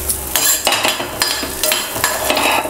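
Chana dal roasts in a pan with coconut added, a spoon scraping and stirring in quick repeated strokes with metallic clatter and faint sizzle, close and loud, no voices.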